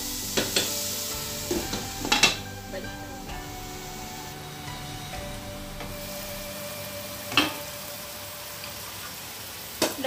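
Ground beef cooks in a pan with onions for spaghetti, giving a soft steady sizzle punctuated by a few sharp scraping stir clicks and taps near the start and again around the seventh second.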